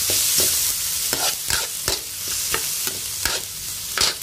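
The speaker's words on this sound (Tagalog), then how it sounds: "Kailangan nito guys, ang kamatis, ating durugin ng maigi." Tomatoes being crushed and stirred in a pan while cooking, a series of sharp, wet mashing and scraping strokes repeating roughly every half second, close and alone.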